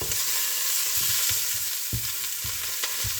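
Dried minced garlic and spices sizzling in a pot for a budget stew, a steady close frying hiss punctuated by regular scraping stirs, with no voices.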